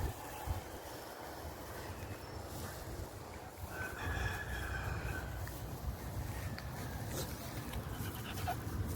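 A dog pants steadily through an outdoor obedience training session, close to the microphone, with wind buffeting in the background and no talking.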